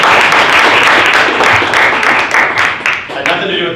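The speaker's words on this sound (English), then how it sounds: "Let's give them a round of applause." Audience applause fills a sales meeting at a real-estate brokerage, a dense steady wash of many hands clapping for nearly four seconds, loud and close, easing slightly toward the end with a few voices mixed in.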